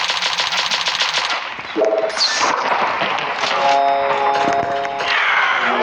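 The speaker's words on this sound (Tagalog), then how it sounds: "Ganito kasi bumaril oh." Rapid automatic gunfire from a video game firearm rattles in loud sustained bursts, with brief pauses and other game effects mixed in.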